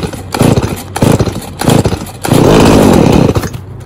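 Stihl 018c chainsaw being pull-started: three loud rasping recoil pulls in a row, then the engine briefly catches and sputters with a rough, near roar before dying away.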